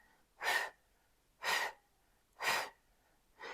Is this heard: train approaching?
no